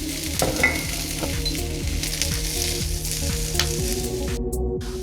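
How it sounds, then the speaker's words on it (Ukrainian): Onion frying in a pan on medium heat until translucent, a dense steady sizzle with repeated stirring scrapes and clacks close by, no speech. "Обсмажити цибулю треба до такої напівпрозорості."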